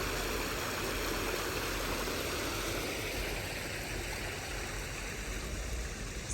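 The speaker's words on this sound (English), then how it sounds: "enjoy the trickle of the water" Water trickling at an outdoor spot in the United Kingdom, a steady, even wash of flowing water with no one speaking.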